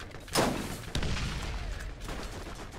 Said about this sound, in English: Oh, shooting us.